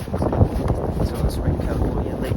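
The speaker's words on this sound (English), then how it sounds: "It is pretty windy today, pretty snowy" Strong gusts batter the microphone at the Soda Springs ski area near Lake Tahoe on a snowy day, a loud, rough, continuous rumble with no clear talk.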